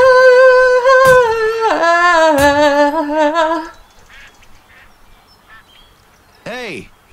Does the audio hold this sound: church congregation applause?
no